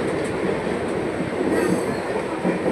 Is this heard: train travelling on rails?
yes